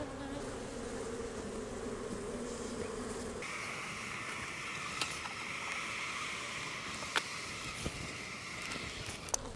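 A dense, steady buzz of many honeybees on hive frames during a hive split fills the air up close, with occasional faint clicks and knocks of handling.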